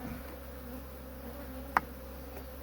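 Honey bees buzz around a hive placed on frames of honey. The hum is a faint, steady drone close by, with one short click partway through and no talk.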